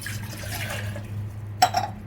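Water is poured into a glass in a home kitchen: a soft low hum gives way to a short, bright splash and trickle near the end.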